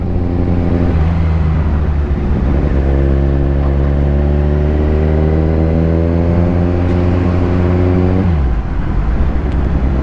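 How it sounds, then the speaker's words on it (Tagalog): A motorcycle engine revs hard and steadily on a highway, its deep harmonic drone climbing gradually in pitch for several seconds before dropping off sharply, loud and close with road wind noise underneath and no talking. "Rev tayo dito sa highway, pwede na."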